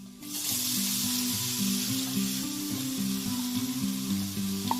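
Garlic paste sizzling and frying in hot oil for a village-style gongura green chili pickle, a steady close crackling hiss that holds loud and continuous throughout, with no talking.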